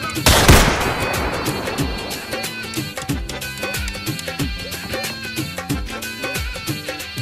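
A loud gunshot blast rings out after a firing command in a Hindi police drama, followed by a run of sharp repeated shots mixed with pounding dramatic background music.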